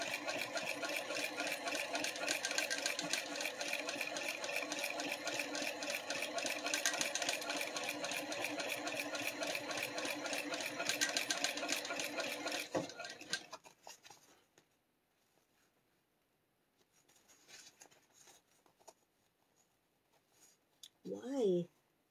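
A sewing machine runs steadily at speed with a fast, even mechanical chatter for about thirteen seconds, then stops; quiet handling noises and a brief voice follow near the end.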